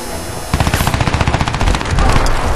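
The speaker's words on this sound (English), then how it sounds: "Who's shooting at me?" Rapid automatic gunfire from the video game Crysis 2, a dense rattling burst that starts after a brief lull and keeps going loud and close for about two seconds amid other battle noise.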